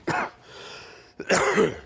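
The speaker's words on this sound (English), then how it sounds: "Oh no, he's coughing, he's infected." A character in the video game The Complex coughs in two harsh bursts, separated by a short pause filled with faint background hum.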